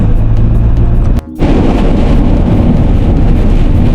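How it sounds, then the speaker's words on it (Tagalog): Heavy rain pours down in a loud, steady broadband roar close by, dropping out for a moment before resuming just as strong. "Lakas ng ulan."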